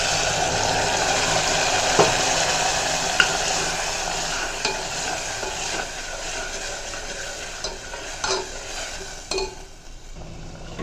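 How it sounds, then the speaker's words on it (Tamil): Okra, tomato and green chili sauté in a pan with a continuous close sizzle, broken by occasional scrapes and clinks of a stirring spoon, with no voices. "வெண்டைக்காய் தக்காளி பச்சை மிளகாய் இது வதங்கட்டும் நல்லா"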